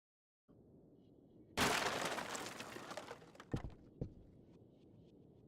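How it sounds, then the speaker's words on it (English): A sudden crash with breaking, shattering glass in the horror video game Among the Innocent, one loud burst after a quiet low hum, followed by a couple of sharp knocks, no talking. "Crashing noise wakes you from a sweaty nightmare."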